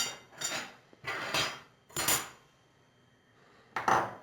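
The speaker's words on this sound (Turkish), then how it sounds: "Bunu tüpün üstüne koyuyorum" A porcelain plate is set down on a gas stove burner, producing three distinct ceramic-on-metal clunks with scraping, spaced about a second apart, then a quiet gap before a fourth clatter.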